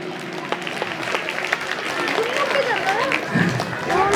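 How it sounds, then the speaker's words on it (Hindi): An audience claps at a Hindu gathering at a Durga temple in Ghaziabad. Dense, continuous crowd applause runs under a loud voice speaking over it. "ताली बजाओ,"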